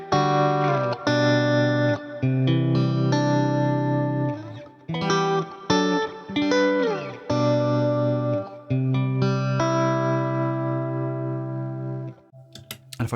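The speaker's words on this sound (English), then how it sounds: "Here's the guitar sound with the reverb on." Sustained electric guitar chords through a reverb pedal ring out with a wide, washy reverb tail, played in several strummed phrases with brief gaps, loud and close.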